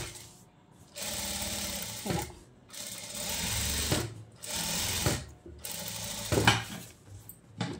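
A sewing machine stitches lining onto a silk blouse in bursts of steady whirring, stopping and restarting several times, close and fairly loud.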